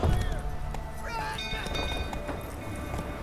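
Roach the horse gallops in The Witcher 3 while a castle burns, quick hoof clip-clops running under game music and ambient noise.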